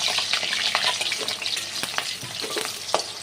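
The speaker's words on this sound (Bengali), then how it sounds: "প্রথমে আমি আলুগুলোকে ভালো করে ভেজে নেব।" Potatoes frying in hot refined white oil, a dense crackling sizzle with quick scraping stirs, close and continuous with no voices.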